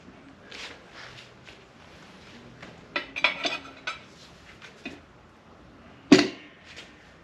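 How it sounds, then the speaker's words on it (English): Metal tire tools clink and scrape while a drop center tool is fitted to a Dunlop D402 tire on a solid disc motorcycle wheel, quiet scattered clanks with one sharper metallic hit near the end. "I think I'm going to go ahead and install a drop center tool right away"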